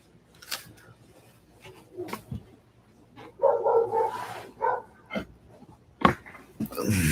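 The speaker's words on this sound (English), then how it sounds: "Don't apologize for the dog bark." A dog barks in several sharp bursts at moderate distance, scattered across a quiet indoor background with a few other short knocks and noises between them.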